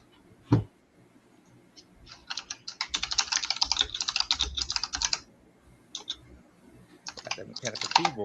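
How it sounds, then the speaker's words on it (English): Fast bursts of clacky mechanical keyboard typing, close to the mic, come in uneven runs with short pauses, with a sharp thump near the start and a voice occasionally heard in the background. "Got that mechanical keyboard going"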